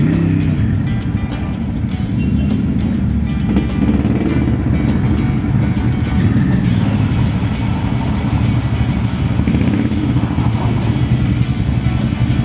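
Motorcycle engines rumble and rev loudly and continuously at Garopaba beach, Santa Catarina, Brazil, a low throbbing roar close by with no pauses.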